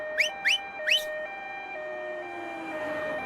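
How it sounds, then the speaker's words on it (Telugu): An ambulance siren cycles through its alternating tones after three quick rising whoops, moderately loud and gradually fading as traffic noise builds. "అంబులెన్స్ వస్తుంది."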